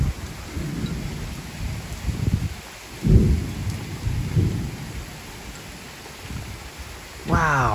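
A Texas rainstorm brings heavy rain hissing steadily on surfaces while low thunder rumbles roll in several times, loud and booming, near the end joined by a brief voice.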